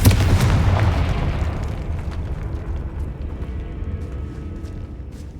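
Confringo spell in the game Hogwarts Legacy bursting into a loud, deep boom that rumbles and slowly fades over several seconds, with nothing else over it.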